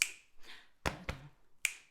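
Finger snaps and a clap in a body percussion singing routine: a few sharp, separate hits spaced irregularly, close and crisp in a quiet room.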